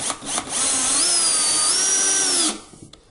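A power drill whines steadily for about two seconds, pitch dipping and rising under load as it drives a number 8 by 1.5 inch screw into pre-drilled wood, with a few clicks before and after.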